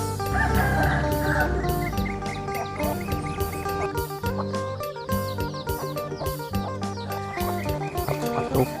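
Free-range backyard chickens cluck and squawk as they are fed leftover rice grains, many birds calling over one another in a busy, loud, continuous chorus.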